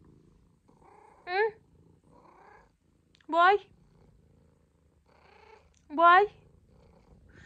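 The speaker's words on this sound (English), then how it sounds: "Just purring her head off like always, are ya?" A cat purrs softly and continuously close by, a low steady rumble under a voice speaking in short bursts.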